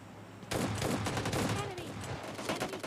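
Gunfire in PUBG Mobile Lite erupts after a brief quiet moment, a rapid burst of repeated shots that continues steadily for a couple of seconds as an enemy is knocked down, with a voice talking faintly underneath.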